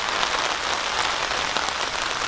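Steady rain from Tropical Storm Isaias falls on surfaces nearby, a dense, even hiss of drops that is constant and moderately loud throughout, with no talking.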